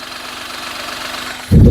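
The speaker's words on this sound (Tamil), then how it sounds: "இப்போ நான் மைக் கொண்டு போய் இன்ஜின் நாய்ஸ் உங்களுக்கு செக் பண்ணிடுறேன்" A Maruti Suzuki Alto 800 LXi car engine idles with a low, steady rhythmic rumble close to the microphone, ending in a sudden loud buffeting thump.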